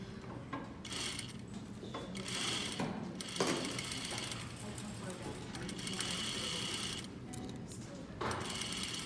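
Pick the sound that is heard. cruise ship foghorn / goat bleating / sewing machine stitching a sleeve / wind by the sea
sewing machine stitching a sleeve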